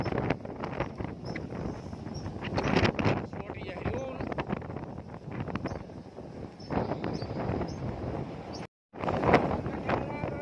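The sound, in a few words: wind blowing outdoors during a storm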